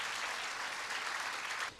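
A church congregation applauds at Sunday Mass, a dense, even burst of clapping that holds steady for almost two seconds and then quickly fades.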